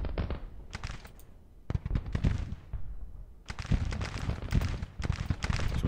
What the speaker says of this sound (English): Now we got artillery coming down on us.